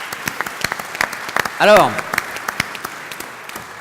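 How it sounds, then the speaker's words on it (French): An audience at a federal congress general assembly claps continuously, a dense patter of many hands that carries under a voice briefly speaking in French. "Je voudrais qu'on vous applaudisse pour ces témoignages."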